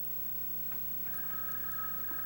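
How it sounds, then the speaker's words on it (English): A telephone bell rings faintly in a quiet room, one electronic-sounding trill starting partway through and holding steady over a low background hum. "The phone's ringing."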